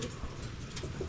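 A pigeon gives a single soft, brief coo near a courting pair, with faint background noise.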